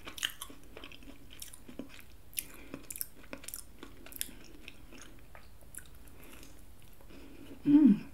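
Close, quiet crunching and chewing of a Crumbl oatmeal cookie, soft irregular bites and mouth sounds throughout, with a brief louder hum near the end.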